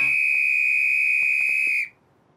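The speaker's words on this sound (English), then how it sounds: "We even get our own whistles" A single shrill, steady whistle blast sounds loud and close for nearly two seconds, then cuts off abruptly into near silence.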